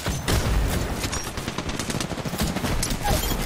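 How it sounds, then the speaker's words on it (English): Rapid gunfire from an Apex Legends match crackles in dense, overlapping bursts, loud and nearly continuous from start to finish. "I'm getting shot from behind."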